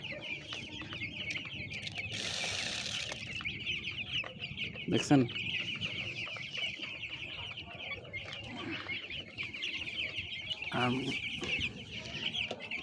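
Broiler chickens on a farm cluck steadily at close range as they rush toward food being given, a dense flock of overlapping calls with brief louder bursts, while a person talks over them.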